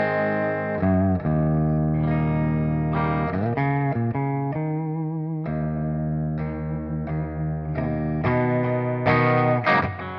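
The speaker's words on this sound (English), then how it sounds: "let's hear this guitar a little bit. We'll start with some clean tones." A Kramer Voyager electric guitar, a signature model, played through clean tones, with chords and single notes ringing out in a steady sequence, close and alone, carrying a light shimmer of chorus-like effect.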